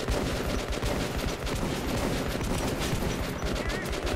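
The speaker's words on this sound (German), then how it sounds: "Ich habe einen Schuss abgefeuert, ich muss nachladen." Sustained gunfire in the post-apocalyptic shooter Metro 2033, a dense, loud fusillade of rapid shots with no pauses.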